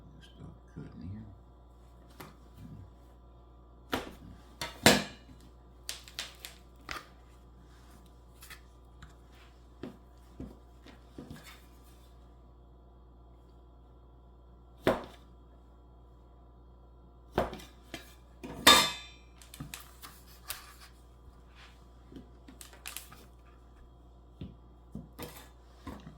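Knife cutting chocolate cinnamon roll dough into pieces in a pan, heard as sparse, sharp clicks and taps of the blade against the pan scattered across a quiet background.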